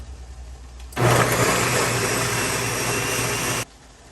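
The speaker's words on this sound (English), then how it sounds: "we want to go ahead and blend that up till it's nice and smooth" A blender purees cashews and vegetable broth, starting abruptly and running as a loud, steady motor whir for nearly three seconds before cutting off.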